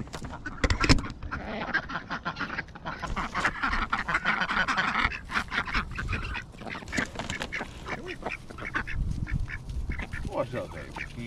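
Ducks quack repeatedly in bursts throughout, mixed with other bird calls and people talking nearby, fairly busy and close.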